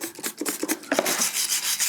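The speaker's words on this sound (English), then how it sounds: "So I'm going to take a stiff brush and start brushing on it." A stiff hand brush scrubs grease off a surface that is being prepared for POR-15 paint. It makes quick, rhythmic rasping strokes, close and fairly loud, with no one speaking.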